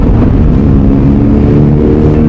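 A motorcycle engine revs hard and steadily at close range during a touring ride to Lampung, a dense, throbbing low drone that holds for the whole clip with no voices over it.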